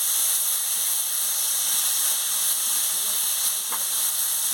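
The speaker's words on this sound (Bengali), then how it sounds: "দিয়ে ভালো করে ভেজে নিচ্ছি।" Pointed gourd pieces fry in hot oil with a steady, close sizzling hiss that continues without a break, and there is a faint knock partway through.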